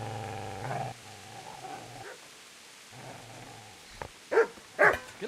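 In Kingdom Come: Deliverance, a dog growls low and steady, then breaks into several loud, close barks near the end, with no talk over it.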